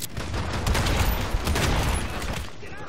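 Shotgun gunfire in the video game Hitman Absolution, heard as dense, loud, continuous firing and explosive bursts that run for the whole stretch without a clear gap between shots.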